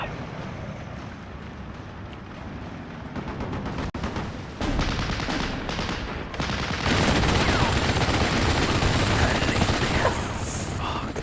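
Artillery and rocket fire in the WWII strategy game Steel Division: Normandy 44, heard as a dense, continuous rumble of distant explosions and gunfire that grows louder partway through, with a sharp crack near the middle.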